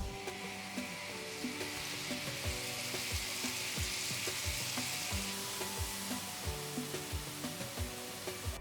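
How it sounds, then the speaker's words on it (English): Chopped tomatoes sauté in hot oil with ginger garlic paste for a mutton fry, giving a steady sizzle, while a spoon scrapes and stirs at a regular rhythm of soft clicks, close and moderately loud. "Add 2 chopped tomatoes and saute it for about 2 to 3 minutes."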